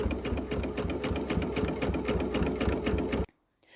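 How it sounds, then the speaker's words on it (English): A sewing machine stitching in the ditch on a baby quilt, running in a fast, even rattle for about three seconds before stopping abruptly. "And then she quilted it stitch in the ditch 2 inches apart."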